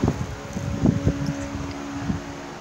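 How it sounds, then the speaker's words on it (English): An electric fan runs steadily, giving a low whooshing hum with a few soft thumps on top. The noise is quiet, continuous and close to the microphone, with no talking. "Sorry about the fan once again."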